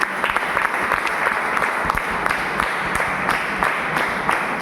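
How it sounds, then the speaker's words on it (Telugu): Lecture audience applauding an engineering lecturer, a dense, steady wash of many hands clapping throughout with scattered sharper claps standing out. "సార్ అజయ్ సార్కి give a big round of applause అండి"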